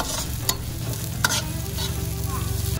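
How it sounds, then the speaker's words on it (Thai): Dried chilies and garlic stir-fried in a hot pan, with a steady sizzle and crackle under the scrape and clink of a spatula stirring at close range. "เริ่มจากผัดพริกแห้งกับกระเทียมให้หอมค่ะ"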